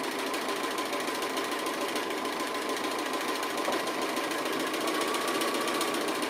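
A sewing machine stitches an appliqué, a steady close mechanical whirring and rapid needle chatter running continuously without pause.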